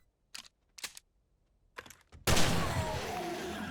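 Gunshots fired at a zombie in the video game 7 Days to Die: several sharp, close cracks separated by short pauses, then a louder blast followed by a long noisy rumble.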